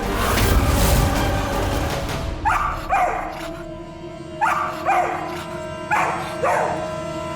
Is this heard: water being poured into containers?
no